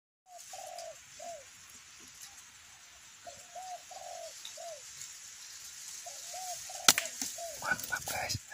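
A spotted dove (tekukur) gives repeated soft cooing phrases in a steady rhythm, moderately distant, followed near the end by louder nearby rustling and knocks.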